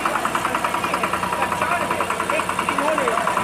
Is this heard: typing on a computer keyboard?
no